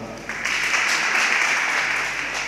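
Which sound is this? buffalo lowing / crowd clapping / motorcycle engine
crowd clapping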